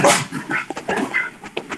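A small pet dog barks and whimpers in short repeated yips close by, filling a brief indoor moment during a geography lesson on local winds.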